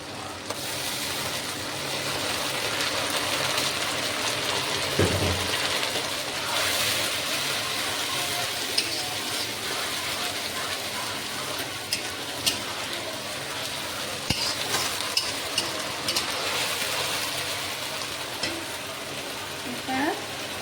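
Chopped tomato being stirred in a pan while duck curry cooks, a steady sizzling hiss with occasional scrapes and clicks from the utensil, heard under a voice speaking.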